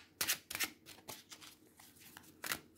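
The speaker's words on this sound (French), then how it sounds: "Nous allons donc tirer 3 cartes, comme je vous le disais en introduction" Tarot cards drawn for a three-card reading: a handful of quick, crisp papery flicks and slides close by, in short irregular bursts with no talking.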